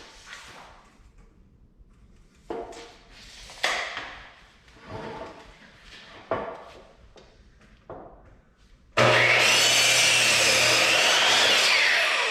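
Wood pieces for a baby bed photo prop being handled with scattered knocks and clatters, then a loud power saw starts and cuts steadily for several seconds close by.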